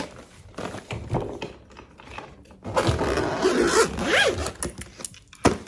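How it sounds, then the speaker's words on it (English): A zipper is pulled along a fully packed BÉIS carry-on suitcase, with a close, scratchy ratcheting sound that runs in uneven strokes and gets louder toward the end. "this will totally zip and I don't have to expand it"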